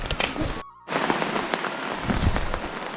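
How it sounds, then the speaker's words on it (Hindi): Steady rain falls in a Himalayan mountain setting after hours of heavy downpour, a dense close patter that briefly cuts out for a moment before resuming. "और अभी बारिश थोड़ी सी हल्की हो रही है"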